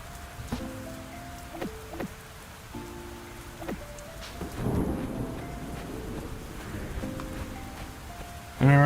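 A thunderstorm in the video game Fields of Mistria: steady rain and low rolling thunder, with a louder crack near the end, under a person's quiet talking voice.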